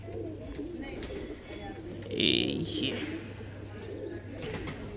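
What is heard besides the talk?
pigeons cooing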